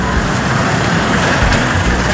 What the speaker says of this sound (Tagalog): Diyan po dumadaan yung mga sasakyan mga idol, puntang Inlex.